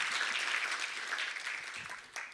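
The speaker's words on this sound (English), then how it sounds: "Can we clap for him again," Soft, distant applause from a conference audience at Film Expo 2025, a thin continuous patter of clapping hands that tapers slightly near the end.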